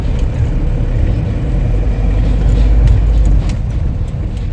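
Steady low rumble of Mumbai traffic jam between Bandra and Vile Parle, car engines idling and moving nearby, a dense continuous wash of vehicle noise with no voices.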